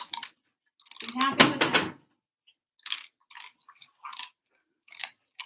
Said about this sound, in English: Well, that is one crunchy oatmeal cookie.